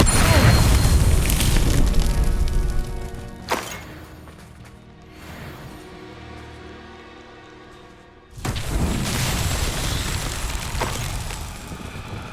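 In Hogwarts Legacy, the Confringo explosive blast spell booms loudly at the start and again near the end, with crashing debris. A quieter stretch of game sound fills the middle.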